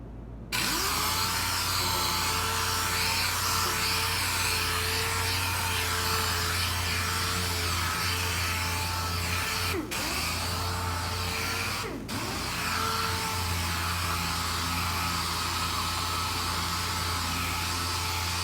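Steady, loud whir of a power sander running stick-it sandpaper on a hook-it interface pad, a continuous drone with two brief dips partway through and no talking.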